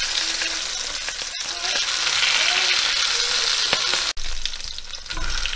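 Southern fried rabbit pieces browning in hot oil in a pan give a steady, loud, dense sizzle with occasional crackles and a brief break near the end, with no voices over it.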